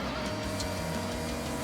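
A V10 car engine in the Forza Horizon 6 racing game, a loud, sustained high-revving whine with a constant buzzing tone, close and continuous for a brief moment.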